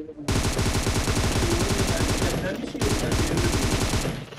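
Rapid automatic gunfire in PUBG Mobile, with long, loud, close bursts of evenly spaced shots and a brief pause partway through.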